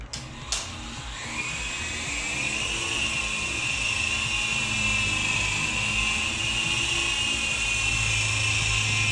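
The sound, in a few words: World Tech Toys Grizzly RC helicopter flying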